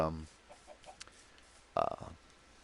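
Chickens in a Minecraft-style game give short soft clucks, then a louder burst of squawking near the end, with a voice talking over parts of it.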